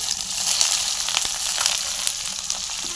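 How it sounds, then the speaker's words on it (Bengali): Onion, green chili and garlic frying in a pan over a clay stove, a close, continuous crackling sizzle with small pops and light stirring, and no talk. "এগুলা হালকা করে ভেজে নেব।"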